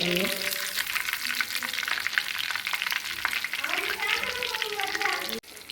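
Semolina-coated sardines sputter in hot oil, a dense, bright crackle that carries on throughout while a voice talks over it, then cuts off sharply near the end.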